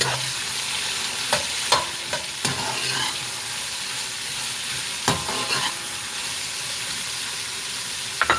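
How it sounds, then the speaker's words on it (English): Green peppers, onions and scallion fry in a pan with a constant bright sizzle, broken by several sharp clacks and scrapes as a utensil stirs them at irregular intervals. "Vegetables in, green peppers, onions, scallion."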